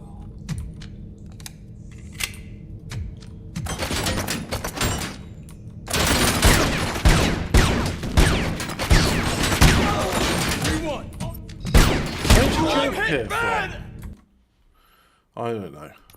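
Gunfire striking the player in a video game: irregular bursts of sharp cracks and impacts building into a dense, loud flurry, then cutting off abruptly near the end, with a person talking over parts of it.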